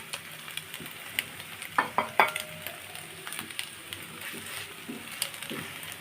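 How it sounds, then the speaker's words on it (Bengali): Eggs frying in soybean oil give a steady, soft sizzle with occasional sharp clinks of a utensil against the pan, fairly quiet and without voices. "এক এক করে আমি সব ডিমগুলো তুলে নেব"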